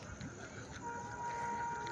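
Trains move around Gobra station while people stand by a road crossing. A faint, steady rail rumble carries throughout, and a thin, sustained horn-like tone rises in the second half.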